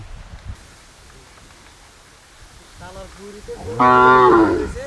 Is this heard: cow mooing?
yes